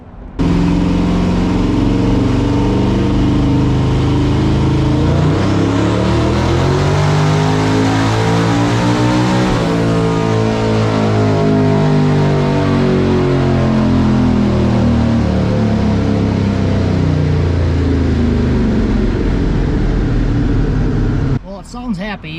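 A 1000HP Ford Ranger street truck engine on a dyno, loud and close, revving up through a long rising pull with climbing harmonic tones, then holding high before cutting off abruptly at the end.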